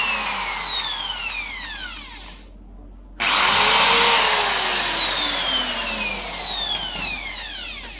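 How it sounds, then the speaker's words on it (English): A power drill whines steadily with sweeping pitch changes boring through the plastic locking disk of a Bugaboo Cameleon 3 stroller, briefly drops off for about a second, then starts up again close and loud. "You want to take your drill bit and put it right in the center of this hole. And just drill it right through."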